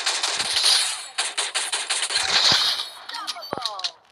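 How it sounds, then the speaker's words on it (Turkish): Rapid bursts of machine gun fire in the mobile shooter Free Fire Max, a dense rattling volley running loud and near through most of the moment, with a few sharper single shots toward the end. "Şu makinalı tüfek ya"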